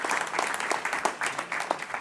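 Audience applause for Mayor Karen Bass at the State of Black LA 2024 event, a steady dense patter of many hands clapping at moderate distance, with a few sharper individual claps standing out.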